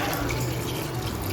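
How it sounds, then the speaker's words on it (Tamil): Steady broadband rush of water pouring continuously into a cooking pot of beef, close and fairly loud, with no talking. "ஓகே, தண்ணி ஊற்றிடுவோம்."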